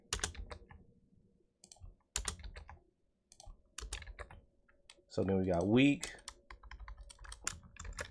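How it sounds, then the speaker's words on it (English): Code being typed on a computer keyboard: irregular bursts of sharp key clicks with pauses between them, alongside a person talking, with one louder voiced stretch midway. "I'm about to start typing this over and over again."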